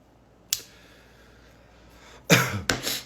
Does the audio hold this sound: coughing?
yes